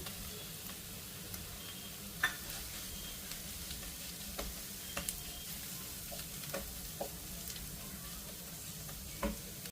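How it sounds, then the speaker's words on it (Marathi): Coriander and grated potato stirred into a frying pan for methi paratha: a soft, steady sizzle with sporadic light clicks and taps of a utensil on the pan, fairly quiet and close. "थोडीशी कोथिंबीर टाकते बटाटा किसलेला आहे तो टाकते"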